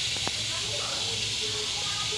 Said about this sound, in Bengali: আলুটা গাজরটা পেঁয়াজের সঙ্গে ফ্রাই হচ্ছে